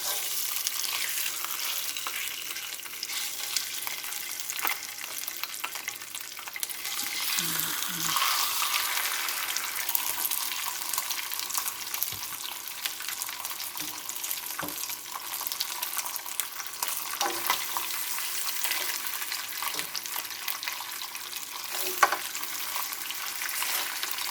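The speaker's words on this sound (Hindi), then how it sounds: "अब मैं इसको फ्राई करूँगी। थोड़ा सा ऑयल गरम हो जाइए इसका। ये गरम हो गया है पैन, तो अब मैं स्टार्ट करती हूँ।" Lamb chops frying in hot oil in a pan, a loud, continuous close crackling sizzle that carries on steadily for the whole stretch, with occasional faint clinks of a utensil and no talking.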